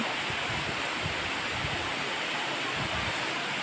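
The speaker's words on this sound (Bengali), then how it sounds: "একটু জোরে বৃষ্টি হচ্ছে দেখতে পাচ্ছ তোমরা" Heavy rain pouring steadily outdoors near coconut trees, a dense even hiss with a constant patter that never lets up.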